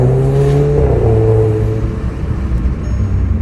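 Volkswagen Golf Mk7 engine revving close by, a strong rising-then-settling whir and drone of the car's motor with no talking.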